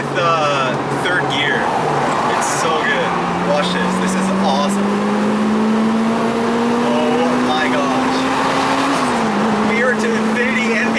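A Toyota Celica GT-S Turbo engine pulled at full throttle from inside the car, a loud steady drone rising in pitch through a long gear, then a brief drop at a shift.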